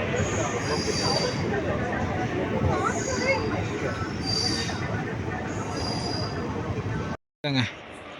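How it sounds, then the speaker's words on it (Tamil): A passenger train pulls into Karur station on the Tirunelveli–Bangalore route, with rumbling wheels, screeching brake squeals and clanking carriages up close, while a crowd's voices murmur underneath and the sound briefly cuts out near the end. "கரெக்டாக ட்ரெயின் வந்து கரூருக்கு வந்து கரெக்டாக 2 மணிக்கு வந்துடுச்சுங்க"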